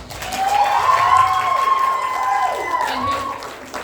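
An audience claps and cheers for members of a cabaret team, a dense, loud wash of applause with whoops and shouted voices rising above it, swelling early and then tapering off.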